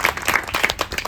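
An audience claps for two sisters at an artisans' cluster gathering, a brief burst of dense, lively applause close by.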